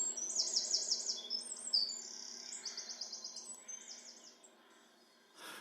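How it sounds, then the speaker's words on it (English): A wren sings a fast, high trilling song in rapid bursts, clear and fairly close, over a faint low background hum. "the beautiful scene is perfectly accompanied by wee Jenny Wren, singing its wee heart out."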